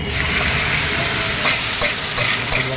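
Garlic paste dropped into hot oil for a Bengali doi katla fish curry, sizzling loudly and steadily up close with a few sharper crackles and spits, no talk over it.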